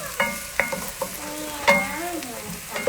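Onions sizzle steadily in a stainless steel pan while a spoon stirs and scrapes them around, soft clacks and scrapes punctuating the constant frying hiss up close.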